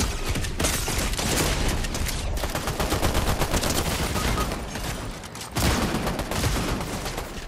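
Rapid, dense gunfire in the battle-royale game Fortnite, with shotgun blasts mixed into a steady loud stream of shots that dips briefly before resuming, no talking.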